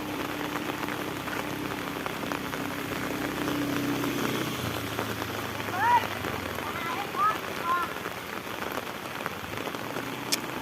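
Rain easing off in rural Thailand, a steady patter of drops on surfaces with a few louder splashes, and low voices underneath.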